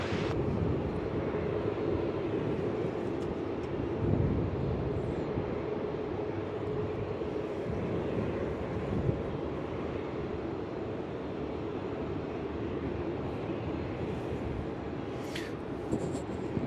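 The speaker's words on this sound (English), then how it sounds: "Big A380 from Dubai." An Airbus A380 airliner from Dubai at Melbourne Airport produces a steady, fairly distant engine roar that holds for the whole stretch. No one speaks over it.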